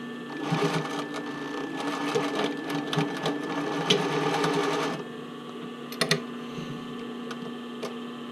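A sewing machine stitches a bra cup overlay in a continuous run of rapid needle clatter over a steady motor hum, then stops; after a pause, a few sharp mechanical clicks sound against a lingering electrical hum.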